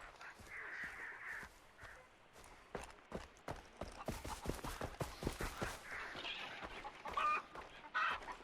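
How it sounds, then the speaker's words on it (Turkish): A chicken clucks and squawks in the video game Far Cry 3, giving a run of sharp, repeated clucks and caws at moderate level, mixed with game ambience and occasional crackling clicks. "Tavuk sesiymiş lan ben bilmiyorum ne ses çıkıyor."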